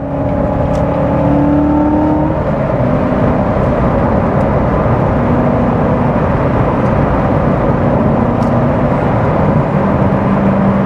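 Supercharged engine of a manual Corvette C7 Z06 roars loud and close while driving, a dense steady drone with rising and falling rev tones throughout and no talking.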